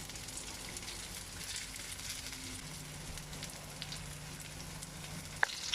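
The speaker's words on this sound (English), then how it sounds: "Now I'm going to put in the seasoning oil, the chili sauce, and also the soya sauce." Seasoning oil, chili sauce and soy sauce sizzle in a pan with vegetarian black and white ramen noodles, giving a soft, continuous frying hiss with a sharp click near the end.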